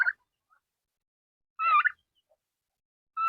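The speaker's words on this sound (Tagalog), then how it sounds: "So we have two turkeys here, guys, now in our chicken coop" Turkeys gobble in a chicken coop, with three short bursts of warbling calls separated by silence, close and moderately loud.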